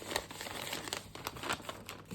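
Thin, fine vintage journal paper from 1927 being handled, giving a soft, close crinkling and rustling with repeated small crackles and no talk over it.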